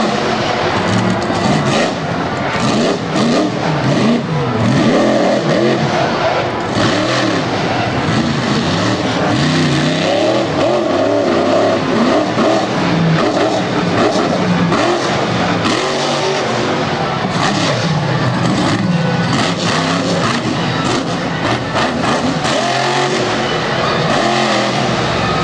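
A monster race truck's engine roaring and revving continuously as it circles a dirt track at a motorsport event, loud and sustained with rising and falling engine pitch and no talk over it.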